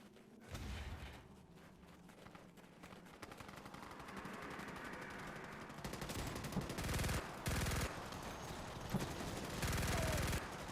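Gunfire in the video game Starship Troopers: Extermination, steady automatic shooting with heavy bursts and thuds amid a busy battle mix, fairly faint overall.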